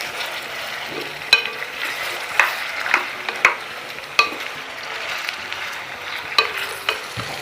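Food frying in a pan crackles softly under repeated stirring, with sharp scraping knocks from the utensil at irregular intervals over a steady low sizzle.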